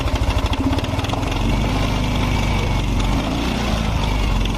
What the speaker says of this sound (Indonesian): suara mesinnya berisik. Kalau kita naikkan RPM nih, suaranya hilang.